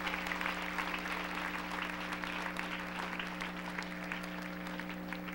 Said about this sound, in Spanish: Denle un aplauso al Rey con todo su corazón.